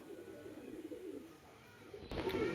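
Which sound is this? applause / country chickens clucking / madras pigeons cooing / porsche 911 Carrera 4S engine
madras pigeons cooing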